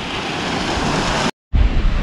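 A small waterfall pours into a little pool in a forested river landscape, a loud, steady rushing roar close to the microphone that cuts out abruptly for a moment and then resumes with some wind buffeting.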